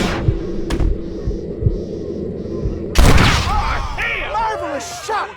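A sharp, loud gunshot cracks out partway through a Red Dead Redemption gunfight, over a low humming, throbbing background, with voices and a ringing tail following the blast.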